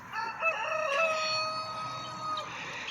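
Backyard chickens crow and cluck nearby, with a drawn-out rooster crow ringing over scattered hen clucks, all against a soft outdoor background with no one talking.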